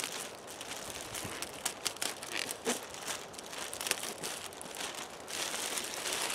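Plastic trash bag being torn open along its seam with a knife, a quiet run of crinkling and ripping bursts, close and uneven, with no talk.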